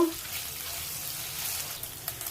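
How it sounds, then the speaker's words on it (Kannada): Paneer cubes fried lightly in hot oil for green paneer masala, a faint steady sizzle with a brief clink at the start and a few small pops near the end, no speech. "ಈಗ ಎಣ್ಣೆ ಬಿಸಿಯಾಗಿದೆ, ಪನ್ನೀರ್ ಹಾಕ್ಕೊಂಬಿಡೋಣ. ಸ್ವಲ್ಪ ಲೈಟಾಗಿ ಫ್ರೈ ಮಾಡ್ಕೊಂಡ್ರೆ ಸಾಕು."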